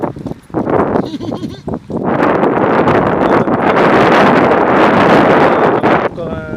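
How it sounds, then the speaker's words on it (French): Heavy wind buffets the microphone in loud, rumbling gusts, nearly continuous, with a few brief moments of quieter background. "Bon, désolé, il y a du vent, hein."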